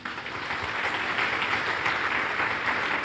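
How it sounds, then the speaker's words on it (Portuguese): Church congregation applauding during a Sunday live service, with dense continuous clapping that is steady and fairly loud throughout and no voices. "Vamos aplaudir Jesus."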